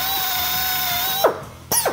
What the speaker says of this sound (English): I'm going to toggle my drill on a couple of times.